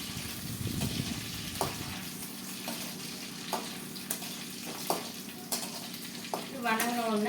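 Brinjal fries in oil in a pan over low heat, a steady sizzle broken by periodic stirring knocks and scrapes, with a brief voice near the end.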